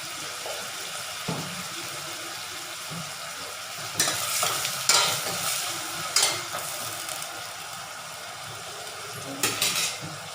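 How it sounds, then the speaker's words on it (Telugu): Onions and green chillies frying in a pan, a steady close sizzle broken by louder scraping bursts as they are stirred, with a few utensil clinks and no talking. "ఆనియన్స్ అవి వేసి బాగా ఫ్రై చేసుకోవాలి"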